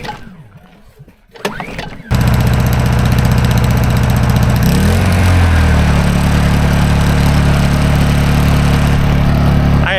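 Small pull-start engine on a horse trailer setup catching after a choke adjustment: a few pull-cord rattles, then it fires and runs loud and steady close by, settling into an even idle.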